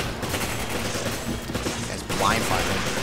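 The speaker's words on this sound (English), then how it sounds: "That's blind fire." Blind gunfire in Resident Evil 5 on Professional Mode sounds as a rattling fusillade of close, loud shots over game noise, with a sharp burst and a metallic sweep near the end.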